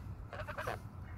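Several quick Sebastopol goose honks in a short burst, moderately close, over a low steady background rumble.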